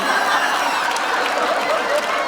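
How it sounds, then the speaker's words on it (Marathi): A studio audience at a Marathi comedy show claps in steady, dense applause that holds at the same level for a couple of seconds, with a little laughter mixed in. "एकदा जोरदार टाळ्या"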